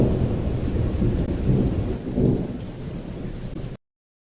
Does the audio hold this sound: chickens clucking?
no